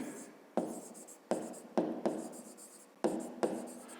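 A pen writes a perimeter formula by hand during a fifth-grade math exercise. Quiet, close scratching comes in short bursts with brief pauses between strokes, and no one talks.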